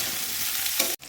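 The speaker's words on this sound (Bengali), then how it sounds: "পেঁয়াজ আর লঙ্কাটাকে দিয়ে নিয়েছি, এটা একটুখানি লালচে করে ভেজে নেওয়ার পরে" Onion and chili fry in a pan, sizzling steadily up close while being stirred, with a brief scrape before the sound cuts out abruptly near the end.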